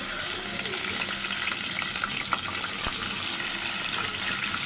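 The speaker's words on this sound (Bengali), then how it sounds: "তো তেলটা গরম হয়ে গেছে আর এই যে মাংসগুলো দিয়ে দিব" Meat fries in hot soybean oil in a home kitchen, a steady close sizzle with occasional sharper crackles and pops, no speech.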